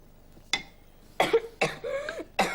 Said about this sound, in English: What made you cough?